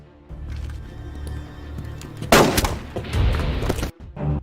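Gunfire erupts in a motorcycle gang film, a loud burst of shots breaking in after a low rumbling stretch, followed by a further volley and a brief pause with a final echoing shot.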